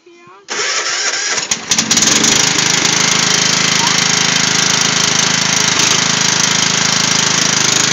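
A lawn mower's engine pulls into life and then runs loud and steady, a continuous roar close by after a brief quiet start.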